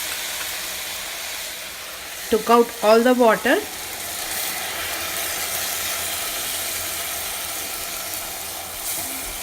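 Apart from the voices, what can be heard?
brinjal pulav mixture frying in a pot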